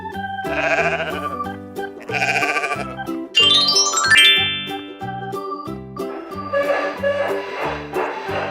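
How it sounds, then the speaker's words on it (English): Sheep bleat several times in wavering, nasal cries, loud and close, with a bright chiming jingle rising through the middle and more bleating after it. "Sheep."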